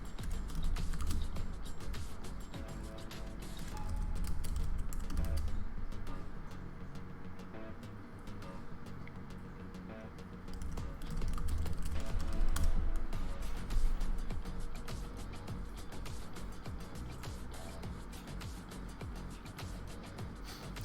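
Rapid typing on a computer keyboard runs throughout, a steady clatter of keystrokes over low background noise with no talking.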